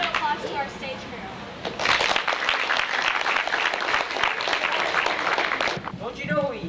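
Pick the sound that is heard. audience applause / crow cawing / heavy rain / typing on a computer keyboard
audience applause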